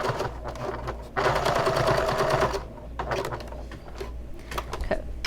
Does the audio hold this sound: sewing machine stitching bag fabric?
yes